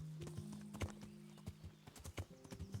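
Hooves clop at a slow, heavy pace from a hefty, slower horse being ridden in Kingdom Come: Deliverance, with irregular thuds close and clear over quiet ambience.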